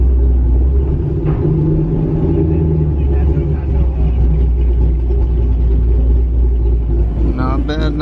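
A Dodge Viper's engine gives a loud, close, steady low rumble that swells slightly near the end, with people talking over it.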